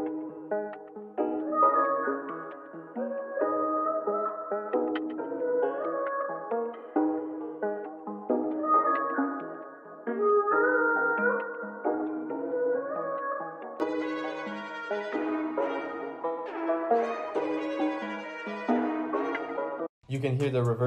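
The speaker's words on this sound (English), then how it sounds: "You can hear the reverse piano right here." A reversed piano sample built in FL Studio swells and fades in layered chords. It sits in a mellow, textured loop of a sampled musical phrase, played alone at moderate loudness.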